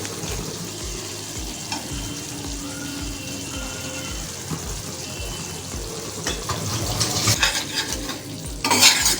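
Cashew paste being stirred into chicken tikka masala in a pan, a steady rough scraping and sizzle that grows busier with clinks of utensils and a burst of clatter at the end.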